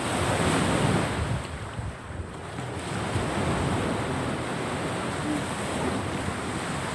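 Heavy surf roars continuously with crashing waves and strong wind buffeting the microphone, loud and close throughout.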